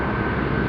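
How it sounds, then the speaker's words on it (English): An army helicopter buzzes overhead, a loud, steady engine drone filling the whole moment without any break. "We've just got an army, or I guess it's army, helicopter buzzing around."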